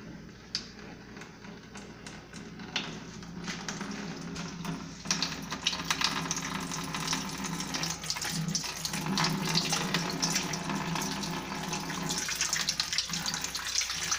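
Chocolate porter wort pours from a hose straight into a home-brewing fermenter, a steady continuous splashing and gushing stream of liquid that runs close and fairly loud for the whole stretch, with no talking over it.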